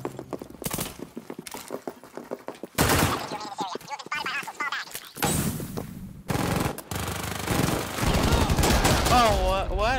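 Rapid bursts of automatic gunfire and shots crackle loudly in the Rainbow Six Siege video game, mixed with dense game effects, in-game announcer voices and a player talking over the action.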